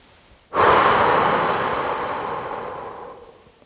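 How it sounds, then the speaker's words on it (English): A singer who is pregnant draws one deep, close inhale through a breathing exercise for singing. It starts sharply and holds steady as a long, airy rush for about three seconds, then fades. "Deep breath."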